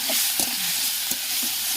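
Onion frying with ginger garlic paste, chilli powder, turmeric and salt sizzles steadily in a pan, with a few soft stirring scrapes and taps over the hiss.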